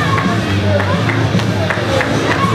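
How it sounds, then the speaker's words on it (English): Hyped crowd at a live independent wrestling event, a loud steady roar of cheering and chatter with some claps, under a commentator talking. "This crowd is hyped here."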